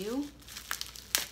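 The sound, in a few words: unwrapping crinkly packaging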